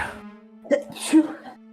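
A single sneeze bursts out mid-clip, close and fairly loud, amid a tabletop role-playing session with a low hum underneath.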